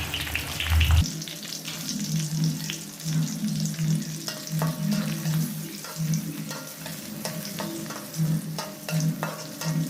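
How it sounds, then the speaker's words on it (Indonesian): Finely chopped spice paste ingredients sauté in a pan until wilted, a continuous moderate sizzle with rhythmic scraping and stirring strokes, no voices. "Kita tumis hingga layu ya"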